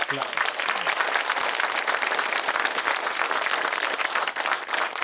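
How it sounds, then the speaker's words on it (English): A crowd applauding county mayors at a groundbreaking ceremony for an Appalachian trail project, loud and dense clapping that continues steadily throughout. "Let's give them a round of applause."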